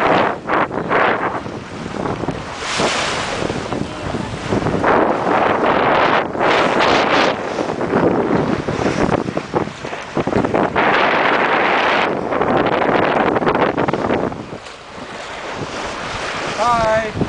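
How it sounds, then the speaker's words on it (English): Sailboat under full sail on Long Island Sound near the Thimble Islands, with heavy wind buffeting the microphone and rushing water along the hull in a loud, continuous roar that surges and eases. "We've just left the Thimble Islands behind. We're under full sail,"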